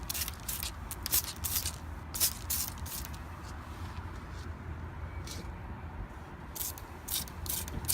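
Leak-test solution sprayed onto the ABS modules of a truck air-brake system, heard as repeated short hissing spray bursts in an irregular rhythm over steady low shop rumble, close and moderately loud.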